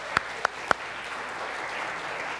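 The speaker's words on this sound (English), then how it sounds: "let's give them a round of applause for serving with our kids" In a church, a few sharp separate claps ring out from the congregation for the kids' ministry volunteers, then fade into a soft, low wash of applause.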